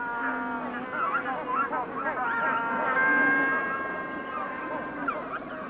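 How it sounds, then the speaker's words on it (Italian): A pair of Falkland Islands penguins at the entrance of their burrow give a hoarse braying duet of harsh, repeated calls, heard fairly close with wind noise in the background. "L'incontro con il proprio partner all'ingresso della tana viene sottolineato da un rauco duetto di ragli."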